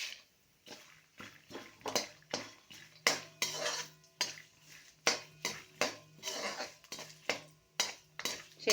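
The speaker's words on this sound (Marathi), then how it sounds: "आता हे पंधरा वीस ग्रॅम शेंगदाणे ते घालून घेते" A spoon scrapes and clatters against a pan as peanuts are stirred for a ragi puffed-rice chivda, in a quick, irregular series of close metallic knocks and scrapes, with no talking.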